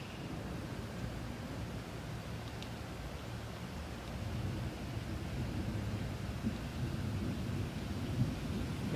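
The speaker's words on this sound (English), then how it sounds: "And you can hear the thunder." Low, steady rumble of thunder rolling in the distance beneath constant rain noise at a Disney resort, growing slightly heavier partway through.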